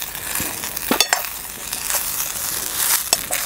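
Cluster beans (gavar) already partly roasted are stirred in oil in a pan, giving a steady close hiss of frying broken by sharp scraping stirs of the spatula.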